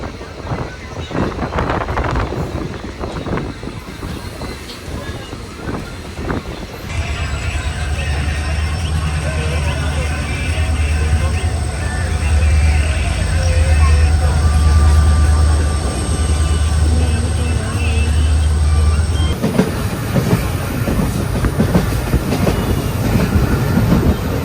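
Kollam Mail passenger train at Kundara station on the Kollam–Aryankavu line, a loud steady low rumble of the moving train with rattling carriages and wind across the microphone, louder bursts at the start and end.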